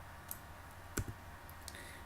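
A computer mouse clicks while an option is selected in OrCAD PSpice simulation software, giving one distinct sharp click, a couple of fainter ticks around it, and a quiet steady hiss behind them.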